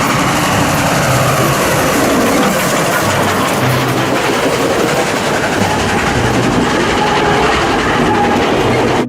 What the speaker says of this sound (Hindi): वाओ छुक छुक छुक छुक छुक छुक छुक छुक ट्रेन